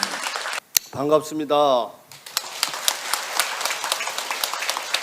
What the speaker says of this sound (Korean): 큰 박수로 좀 맞이해 주시기 바랍니다.